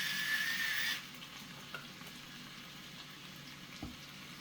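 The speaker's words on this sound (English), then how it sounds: "It's kind of frying the cabbage." Cabbage sizzles in butter with beef in a pan, a bright steady hiss that is strong for the first second, then drops to a low, faint simmer with an occasional soft clink.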